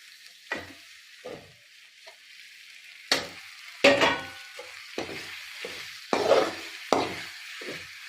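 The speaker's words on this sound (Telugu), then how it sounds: "ఇలా అల్లం వెల్లుల్లి పేస్ట్ బాగా వేగిన తర్వాత ఇప్పుడు టమాటా వేసుకుందామండి" Tomato pieces frying in a kadai with ginger garlic paste for mutton biryani, with intermittent bursts of sizzling and stirring scrapes coming in short, repeated waves, fairly close, with no talking.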